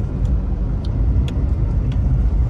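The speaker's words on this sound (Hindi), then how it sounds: "अब देख सकते हैं दो गाड़ी आई आराम से पास होगी" Cars drive past on a road beside a boundary wall near a gated plot site on Mussoorie Road, Dehradun, giving a steady, close engine rumble and tyre noise throughout with faint higher clicks on top.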